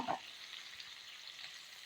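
Onion and urad dal frying in a pan give off a soft, even sizzle, faint and steady, with a brief small knock at the start.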